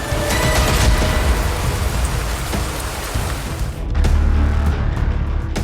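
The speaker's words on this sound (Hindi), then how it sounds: "फिलहाल बारिश थमने का इंतजार था।" Steady heavy rain falls in a forest, a dense continuous hiss with a low rumble underneath that swells a little toward the end. Nobody speaks.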